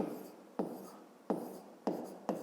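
A pen or pencil writing a fifth-grade maths solution on paper: four distinct scratchy strokes, each starting sharply and then trailing off, close and quiet, with no talking.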